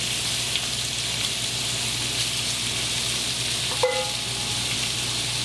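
Shrimp fry in a hot pan for tacos, a steady close sizzle with one brief clatter partway through.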